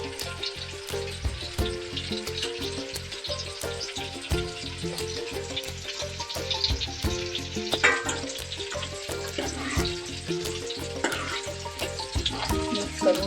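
Mandeli fish dropped into hot cooked masala in a pan sizzles and spits steadily, a dense close frying hiss with scraping stirs and occasional clinks of utensils, no talking.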